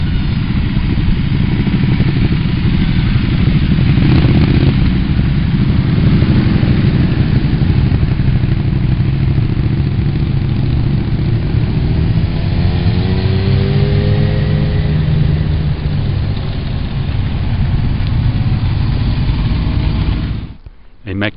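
Motorcycles and Can-Am Spyder three-wheelers idle at a mountain pass stop in France, a loud, continuous engine rumble that holds steady for a long stretch, with a brief rising rev near the end.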